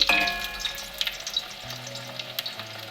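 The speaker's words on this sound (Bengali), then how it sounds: "একটু লাল লাল করে সেঁকে নেব আলু পরোটা" Potato paratha sizzles and fries steadily in oil on a pan, a close, continuous crackle with light stirring scrapes, no voices over it.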